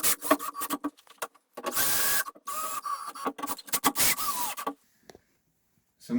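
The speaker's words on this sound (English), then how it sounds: "with our M6 fixings, we're going to use a PH3 bit to secure our wall bracket to our plasterboard" Power screwdriver with a PH3 bit driving M6 fixings through a wall bracket into hollow plasterboard, close whirring bursts with a steady pitched whine, then brief taps and quiet handling.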